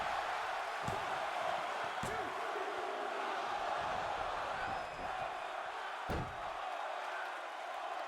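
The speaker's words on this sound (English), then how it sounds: "the crowd are on their feet" A wrestling crowd at a main-event birthday show keeps up a steady roar of cheering and shouting throughout, with a few sharp slams or thuds cutting through near the start and again later.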